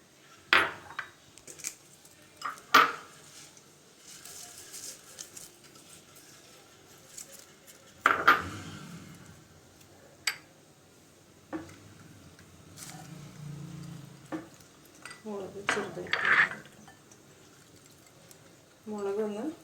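Ground lentil batter for parippuvada is mixed with other ingredients in a bowl, heard as sparse, close knocks and clatters against the bowl separated by quiet stretches, with faint voice in the background.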